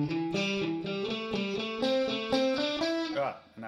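A steady stream of straight sixteenth notes climbs and falls through a pentatonic scale on an effects-processed electric guitar with mild distortion, evenly picked and close, ending with a brief slide-off at the end.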